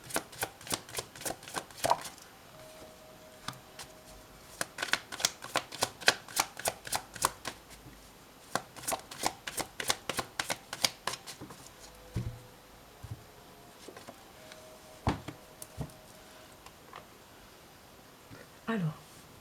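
Tarot cards are shuffled in rapid riffling bursts and snapped down onto a table in a series of sharp, close clicks, with someone speaking French between the bursts.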